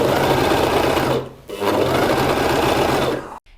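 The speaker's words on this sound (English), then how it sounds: "and then start sewing." A Gritzner 788 (Novum 960D) sewing machine stitching fabric close up, with a steady fast mechanical whir and a brief slowdown partway through before it stops.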